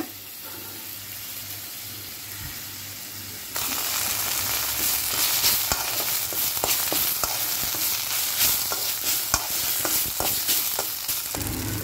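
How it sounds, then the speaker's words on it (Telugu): Curry leaves dry-roasting and being stirred in a dry pan with no oil, giving a steady close crackle and sizzle with scattered sharp ticks and scrapes throughout, louder after the first few seconds. "అదే బాండిలో ఆయిల్ ఏం వేయలేదండి కరివేపాకు"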